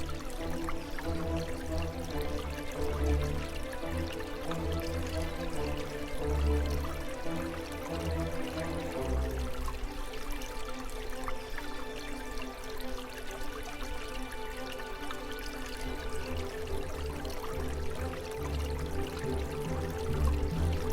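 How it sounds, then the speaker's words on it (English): Stream of running water heard outdoors, a continuous trickling and gurgling flow with low churning tones, steady and fairly close throughout, no voices. "That's the sound of running water"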